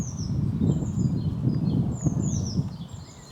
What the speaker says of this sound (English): Still, this is birdsong now.